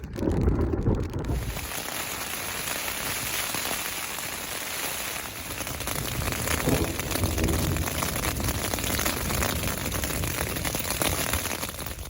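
Steady, dense rain falls continuously during a thunderstorm, a loud even hiss of drops on surfaces with no distinct thunder claps standing out.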